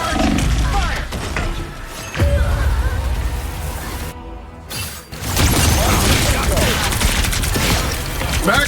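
Pulse charge weapon fire in the Marvel Rivals hero shooter: loud bursts of gunfire over dense game effects and a roaring rush, with a brief drop to near silence midway before the barrage resumes, voices calling out over it.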